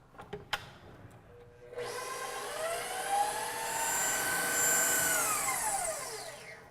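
A stand mixer's whisk speeds up while making brown sugar. A few light knocks come first, then a loud, steady high whir starts abruptly and holds to the end, its pitch rising slightly, with no talking.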